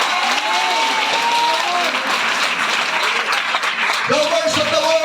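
A church congregation breaks into sustained hand clapping during a sermon, loud and dense, with cheering voices and a speaker's voice rising over the applause.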